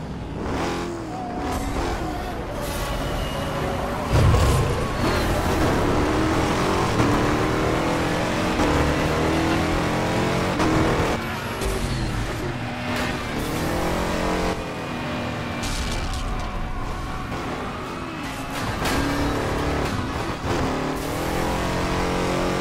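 Cars racing in the video game Burnout Paradise Remastered on PS4, with a steady loud roar of engines revving and accelerating throughout, shifting pitch as the cars speed along without pause.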